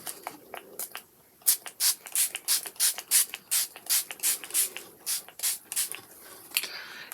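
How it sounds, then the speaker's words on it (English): Revolution CBD makeup fixing spray misted onto a face in a rapid string of about fifteen short, close, crisp hissing pumps, each burst sharply separated by brief gaps. "I'm going to spray this on my face now"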